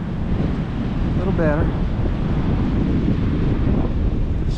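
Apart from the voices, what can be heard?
strong north wind at Galveston beach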